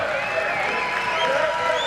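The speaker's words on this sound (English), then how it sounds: "you could actually hear the entire crowd feel almost bad for him with that" A volleyball crowd at a men's Big West tournament match lets out a long, sympathetic collective groan after a missed attack, a dense murmur of many voices swelling steadily throughout.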